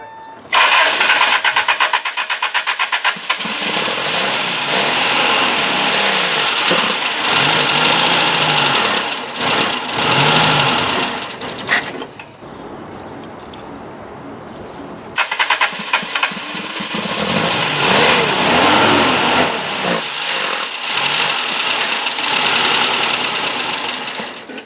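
A 1978 Toyota Corolla engine, being fitted with fuel injection, cranks and catches, then runs loud and rough with revving. It cuts out briefly around the middle and restarts to keep running, close and steady, with no talk over it.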